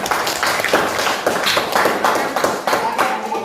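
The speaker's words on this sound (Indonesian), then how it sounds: "Beri tepuk tangan untuk kelompok pertama" A classroom group of students clapping for the first group after a presentation, close, loud uneven handclaps in a ragged continuous burst lasting a few seconds.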